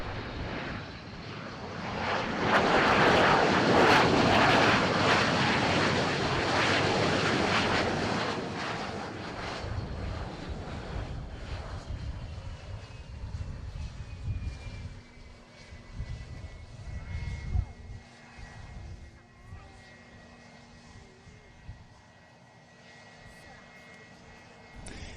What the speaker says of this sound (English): onlookers could see the plane well before it came into land